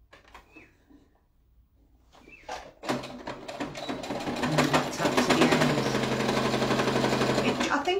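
A domestic sewing machine starts up and runs in a fast, steady mechanical whir while stitching fabric for a car playmat, preceded by a few soft handling noises and brief quiet.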